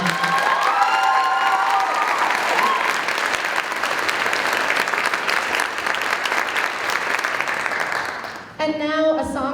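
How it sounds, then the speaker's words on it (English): Sustained audience applause with some cheering fills a school choir concert hall, steady and dense for about eight seconds before cutting off, followed by a brief voice at the end. "So let's give them a round of applause."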